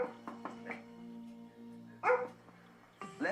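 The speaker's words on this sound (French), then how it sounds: "Leslie doit corriger Buddy quand il aboie." A labrador named Buddy gives a few short barks and yips nearby, a quick cluster early on followed by louder bursts later, with quiet gaps between.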